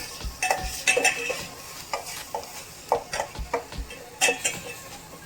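Turmeric, coriander powder and a little red chili sauté in hot tempering oil for dal, a soft sizzle broken by repeated scraping, clinking stirs of a spoon against the pan at close range.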